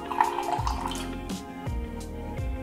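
Hot drip coffee poured into a container, a steady liquid stream running close and continuous for a few seconds with a few soft knocks.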